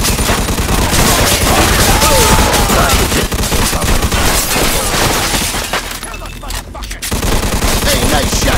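Dense, loud gunfire in the Mafia II video game, rapid overlapping shots and bursts filling the scene almost continuously, with a short lull before the shooting resumes.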